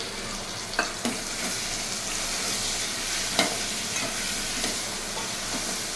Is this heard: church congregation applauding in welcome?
no